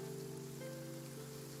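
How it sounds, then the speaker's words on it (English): Rain falling steadily, quiet and even, with soft sustained musical tones running beneath it and a brief brighter tone at the very end. "It's raining."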